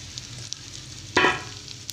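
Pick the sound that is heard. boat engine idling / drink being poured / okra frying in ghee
okra frying in ghee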